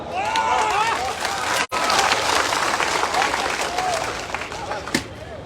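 A crowd at a political party's joining ceremony in Supaul breaks into sustained applause with some cheering, a dense clatter of many hands spread across a large gathering that briefly cuts out and then resumes.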